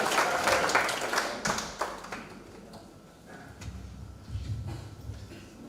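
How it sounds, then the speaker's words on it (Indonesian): Church congregation clapping during a Sunday worship service, a burst of applause that is strongest at first, then thins out into sparse claps and low room noise. "Berikan tepuk tangan untuk Tuhan."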